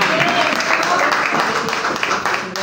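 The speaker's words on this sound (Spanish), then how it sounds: "Un aplauso porque se merece" Applause from a church congregation, a steady wash of many hands clapping together, filling the room evenly and held at a constant level for the length of the clip.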